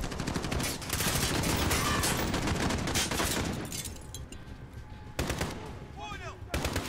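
Sustained machine gun fire in Call of Duty: Modern Warfare pours from a dense, loud stream of rapid bursts, then eases into scattered shots and a final flurry amid battlefield clatter.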